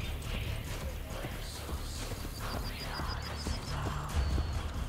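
Horse trotting in Assassin's Creed Brotherhood, a steady clip-clop of hooves running through the clip under game music and ambient street noise, with faint voices in the background.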